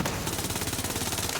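Close, loud, rapid automatic gunfire from a gun in Borderlands 3, a continuous fast stream of evenly spaced shots with no voices.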